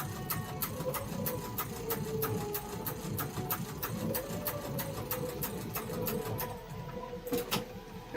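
A sewing machine quilting a stitch-in-the-ditch seam runs steadily and close, its rapid needle clatter holding an even rhythm under a low motor hum, with no talk.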